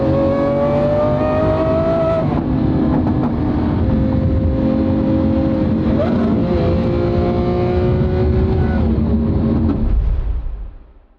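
A car engine runs loud and close throughout, its pitch stepping down as it downshifts, staying steady before fading at the end.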